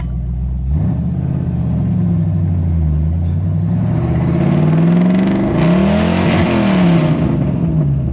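The engine of a 1968 Ford Mustang is revved repeatedly with the throttle, rising and falling in several loud, close blips over a steady idle, without any voices.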